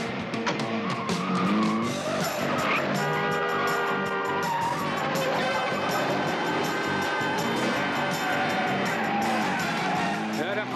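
A car chase fills the scene with screeching tire skids and roaring engines, loud and continuous, while people talk over the racket.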